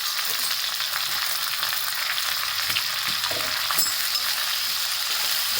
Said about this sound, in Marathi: लसूण चांगला तडतडला की त्याच्यामध्ये भेंडी टाकणं